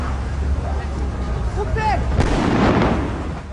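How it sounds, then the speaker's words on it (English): A firework goes off outdoors: a brief whistling rise, then a sharp bang with a rumbling crackle that fades, amid crowd noise and distant voices. "That was a firework."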